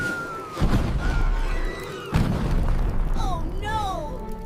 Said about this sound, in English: As Stuart roasts the flare like a bratwurst, a massive explosion sends the trio flying.